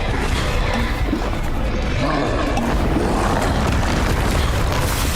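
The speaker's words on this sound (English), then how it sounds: "But that was the whole purpose of exploding those jars." Jars explode in Hogwarts Legacy with a loud, dense, continuous roar and rumble that fills the scene, without spoken voices.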